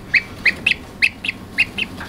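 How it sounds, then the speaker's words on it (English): Newly hatched gosling peeping from an incubator hatch, a series of about ten short high-pitched chirps in an uneven rhythm, close and clear over faint background hum. "So you guys remember the goose eggs we had in the incubator? Well, guess what? There is the first one that hatched."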